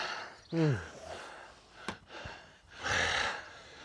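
Heavy, ragged gasps and sighing breaths from someone recovering after an outdoor workout, close to the listener, with a couple of sharp intakes and a long exhale.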